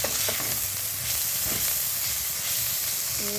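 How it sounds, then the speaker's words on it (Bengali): Chopped onion and green chili sizzle in hot oil in a pan for veg chicken chowmein, a loud, dense, continuous hiss up close with a few stirring scrapes and a brief clink near the end. "পেঁয়াজ লঙ্কা কুচনো দিয়ে আবার একটুখানি ভাজতে হবে হালকা করে"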